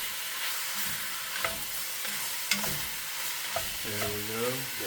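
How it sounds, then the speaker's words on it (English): Ground meat and vegetables browning in a pan for gameday chili, a steady sizzle with a few stirring scrapes and clinks, close and alone without voices. "we're trying to brown this meat off"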